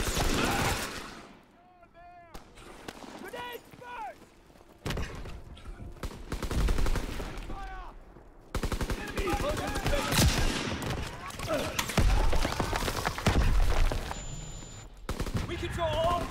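Battle gunfire in the Call of Duty WWII PC beta, loud and dense in several stretches, cut by abrupt pauses, with in-game voice callouts over parts of it.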